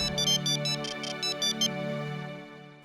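A mobile phone ringtone plays in a home setting, a bright repeating electronic tune in short pulsed bursts over a sustained tone, clear and close with no talking.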